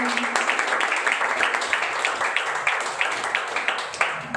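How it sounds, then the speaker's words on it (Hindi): An audience claps along in an irregular, fairly close patter of many hands, lasting the full stretch without a break. "ताली बजाए."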